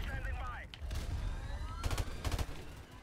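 Rapid M16 rifle bursts crack in Call of Duty: Modern Warfare Remastered, several quick clusters of shots mixed with game effects, a player's voice heard around the gunfire.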